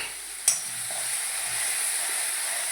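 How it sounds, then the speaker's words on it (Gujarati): Chilli garlic paste frying on a low flame in a pan, a soft steady sizzle with one sharp clink of a spoon near the start and faint stirring scrapes throughout. "મરચાં લસણની પેસ્ટ નાખી દઈએ મિક્સ કરી નાખો બરાબર"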